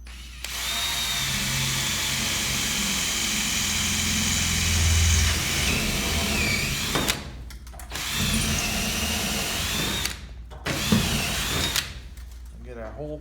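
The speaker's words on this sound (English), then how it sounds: "Get our hole pre-drilled." A power drill pre-drills a hole into a pole barn ceiling for a radiant tube heater hanger, whirring steadily for several seconds and then cutting out, followed by two shorter bursts.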